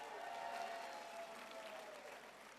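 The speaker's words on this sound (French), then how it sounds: "Et bravo à eux, on peut les applaudir." A theatre audience at a gala show applauds in steady, dense clapping that fills the room at moderate distance, without a break for its whole length.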